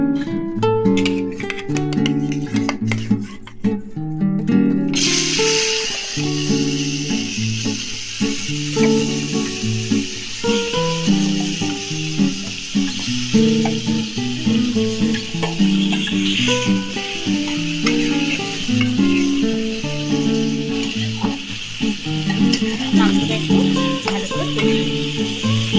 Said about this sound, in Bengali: এবার আমি যে মাংসটা ম্যারিনেট করে রেখেছিলাম, সেই মাংসটা আমি করে নেব।